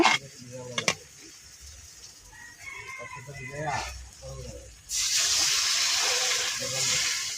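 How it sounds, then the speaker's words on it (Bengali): Water is added to fish curry masala in a hot pan, bursting into a loud, steady hissing sizzle that continues to the end, after a stretch of talking and kitchen clatter. "মশলাটা ভালো দিয়ে কষা হয়ে গেছে মুখিটিও হয়ে গেছে কষানো তো এখন জলটা দিয়ে নিব"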